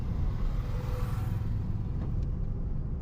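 A manual car pulling away after a smooth gear shift, its engine giving a low steady rumble that rises gently under acceleration, then thins out near the end, heard from inside with no voices.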